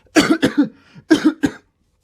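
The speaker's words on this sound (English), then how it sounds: "that was a legit cough" Two bursts of harsh coughing close to the mic, each a quick run of two or three coughs, with a short gap between them.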